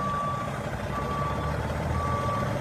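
A truck backing a B-train trailer sounds its reversing alarm, evenly spaced high beeps repeating over a steady engine rumble, fairly close and with no talk.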